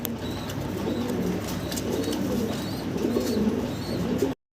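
Large fancy pigeons on a farm coo steadily in soft, overlapping low calls beneath a constant hum of the flock, with faint higher chirps scattered through until an abrupt stop.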